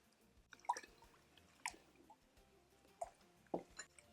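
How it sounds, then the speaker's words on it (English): Lentil rice soup with chicken flavoring being stirred in a crockpot: a few soft, wet squelches and clinks spaced out over several seconds, quiet and close, with no talking. "Stir this."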